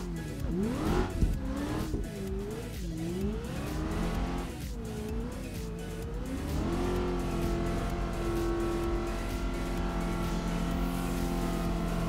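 Video game car revving hard while drifting on a snowy map, the engine note rising and falling in repeated sweeping swoops before settling into a steady high drone, loud and continuous with faint tire noise.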